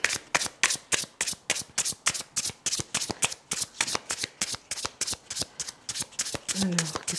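Tarot cards being shuffled by hand in rapid, rhythmic riffling bursts, steady and close, with someone speaking softly near the end.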